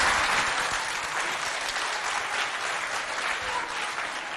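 An audience at a school quiz contest between Chadian schools applauds the contestants, a loud, dense and continuous round of clapping that holds steady from start to finish.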